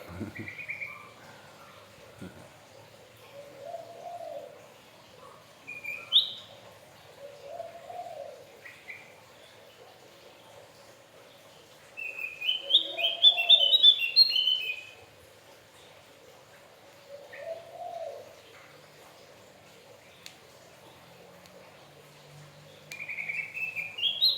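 A Javan opior songbird sings in a quiet room, repeating short clear chirping phrases at intervals with one longer, louder burst of song midway, over a faint steady hum.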